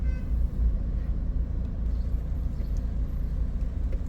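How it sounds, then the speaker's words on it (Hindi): Heavy road traffic on a street in Small Heath, Birmingham, a loud continuous low rumble of passing cars and larger vehicles close by, with no clear pauses. "अभी मैं पॉज करता हूँ, बहुत ट्रैफिक है।"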